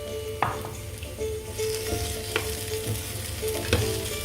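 Tomatoes hit a hot pan and fry with a steady, close sizzle, stirred with a few sharp scrapes and knocks of the utensil against the pan while cooking apricot and orange osso bucco.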